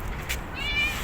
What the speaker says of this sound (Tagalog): Ayan, isang galang pusa.